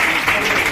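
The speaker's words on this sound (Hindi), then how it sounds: "ताली बजाओ एक बार।" A brief burst of audience applause from a crowd at a public speech honouring Babasaheb Ambedkar, loud and close, lasting under a second.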